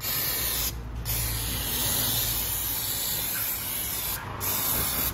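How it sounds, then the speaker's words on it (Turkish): Brake cleaner sprayed under a car engine to clean oil residue, a loud continuous aerosol hiss with two brief pauses where the nozzle is released. "Yine alttaki bazı yağ kalıntılarını balata spreyi yardımıyla temizliyoruz."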